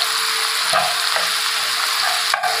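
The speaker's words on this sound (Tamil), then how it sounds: "இப்போ இது நல்லா வதங்கிட்டு இருக்கட்டும்" Ivy gourd sautéing in a hot pan gives a steady, loud, close sizzle with a few short stirring scrapes and no talk.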